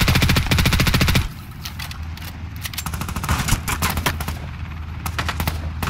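Rapid automatic gunfire in Ring of Elysium, a dense close burst of fast shots in the first second, then scattered bursts and single shots continuing at lower level through the rest.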